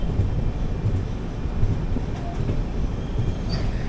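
The 16511 Kannur Express rumbles steadily along the tracks toward Netravati cabin near Mangaluru, a continuous low clatter of wheels with faint metallic squeaks, heard from on board in an AC 3-tier coach.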